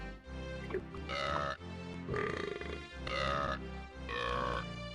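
Four drawn-out, throaty burps follow one another in a loose rhythm, each lasting about half a second, with short pauses between them. No talking.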